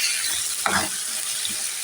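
Vegetables being stirred with spices in a home cooking pan: a single short scraping, clattering stir near the middle, with a fainter second scrape later over a steady background hiss.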